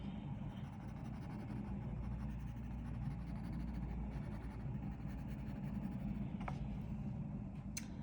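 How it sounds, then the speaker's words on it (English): A graphite pencil scribbles across paper to shade a drawing, a continuous faint, scratchy rubbing that stays steady throughout. "I'm just scribbling some graphite around the outside."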